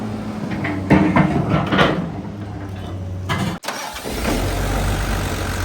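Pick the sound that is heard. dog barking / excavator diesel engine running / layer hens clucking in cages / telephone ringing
excavator diesel engine running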